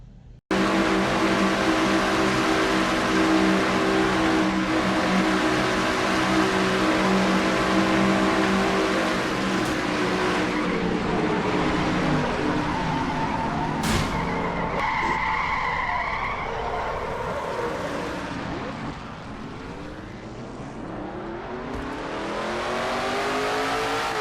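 Race car engine heard from the in-car view of a Michigan oval race in a stock car racing video game: a loud sustained roar with shifting pitch, tire skidding and squeals partway through, then revving back up.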